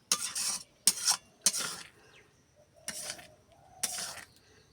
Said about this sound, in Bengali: ওই জন্য এবার আস্তে আস্তে করে জাল দেবো আর বারবার করে এরকম করে নাড়তে থাকবো, তাতে না তলায় না ধরে